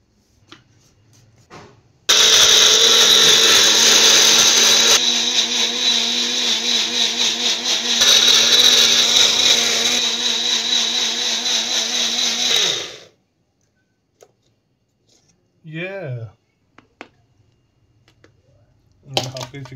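A kitchen mixer grinder blends coriander and garlic with a little water into paste, a loud harsh whir running for about eleven seconds before winding down, followed by quiet clinks and brief sounds.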